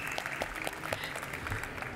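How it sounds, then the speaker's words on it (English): Conference audience claps for a guest arriving on stage at a 4YFN tech event, a brief steady patter of applause with scattered sharper claps. "please give a huge 4 years from now round of applause for our next guest, Janet Bayliss"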